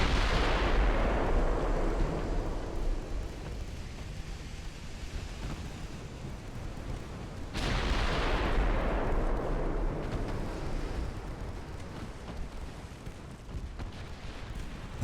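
Naval guns firing in Ultimate Admiral: Dreadnoughts, a loud booming blast followed by a long rumbling decay, then a second heavy salvo about halfway through that rolls off the same way, with no talk.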